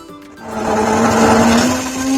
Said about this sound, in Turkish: pürüzsüz kıvama gelene kadar blenderdan geçiriyorum